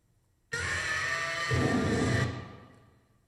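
A loud, sustained scream bursts in abruptly, holding steady for nearly two seconds before cutting off and trailing into a fading reverberant tail.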